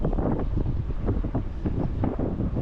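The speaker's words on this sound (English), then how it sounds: "Getting a little more wind out here today, which is fine." Gusty wind buffets the microphone outdoors on a creekside greenway in Charlotte, North Carolina, a continuous low rumbling roar with no one speaking.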